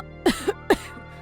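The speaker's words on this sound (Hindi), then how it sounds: "माँ को हल्की सी खांसी आ जाती है।" A woman gives two light, short coughs close by, separated by a brief pause, then quiet.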